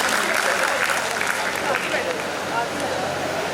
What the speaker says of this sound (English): Let's give a big round of applause to the entire Jarvis Forum Committee.